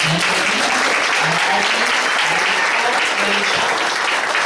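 An audience at a spring Irish dancing show applauds the dancers in a steady, dense wash of clapping, with a few voices murmuring faintly underneath.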